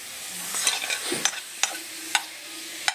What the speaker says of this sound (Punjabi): ਤੁਸੀਂ ਹਲਕੇ ਹਲਕੇ ਹੱਥਾਂ ਨਾਲ ਨਾਲ ਇਹਨੂੰ ਹਿਲਾਈ ਵੀ ਜਾਣਾ ਇਹਨੂੰ ਘੱਟ ਤੋਂ ਘੱਟ 2-3 ਮਿੰਟ ਅਸੀਂ ਭੁੰਨਾਂਗੇ